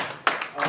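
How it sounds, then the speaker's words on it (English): An audience at a wake gathering claps along in time with live music, a few sharp, close hand claps in a steady rhythm, with voices murmuring underneath. "Might need some clapping to help us with this."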